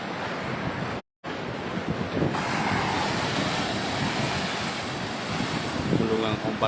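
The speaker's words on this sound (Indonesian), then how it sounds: "Gulungan ombaknya ya cukup tinggi" Heavy surf rolls in on the beach at Galesong, Takalar, with high waves and strong wind buffeting the microphone, a steady loud wash that drops out briefly near the start.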